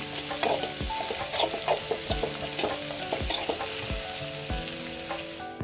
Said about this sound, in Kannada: ಅರಿಶಿನ ಈರುಳ್ಳಿ ಎಲ್ಲ ಸಾಫ್ಟ್ ಆಗೋವರೆಗೂ ಫ್ರೈ ಮಾಡ್ಕೊಳ್ಳಿ